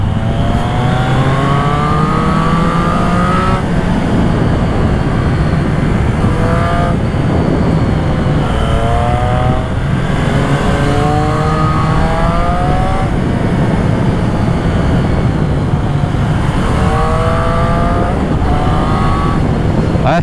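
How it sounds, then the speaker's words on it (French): Triumph Trident 660 fitted with a full Zard exhaust system, riding and revving through gears. The loud, close engine note climbs and drops over and over, with a brief voice partly under it. "ça a vraiment une belle sonorité cette ligne hein"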